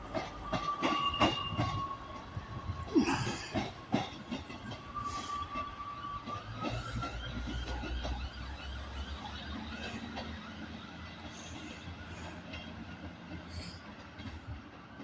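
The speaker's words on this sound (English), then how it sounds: "Arriving in now is a Northern service, terminating service from Whitehaven, worked by one of their 156s." A Northern class 156 diesel train pulls into Carlisle station on a terminating run from Whitehaven, its engine rumbling and wheels clicking over rail joints, with a drawn-out squeal of braking as it slows to a stop nearby.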